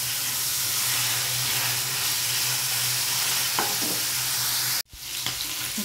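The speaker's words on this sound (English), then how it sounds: "And still frying it" Liver sizzles steadily as it fries in a pan, a loud continuous hiss with a brief cut near the end before the frying resumes, and no voices.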